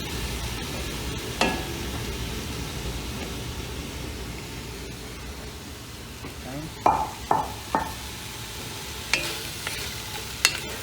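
Onions tipped into a hot pan for French onion soup give a steady low sizzle, broken by a few sharp clinks and scrapes of a utensil against the pan near the end.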